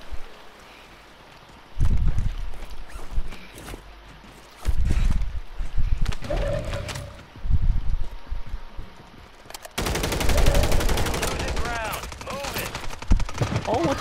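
Gunfire in the Call of Duty video game: loud bursts of automatic fire come in several separate bursts, then a longer, dense stretch of shooting near the end, with a voice talking faintly at times.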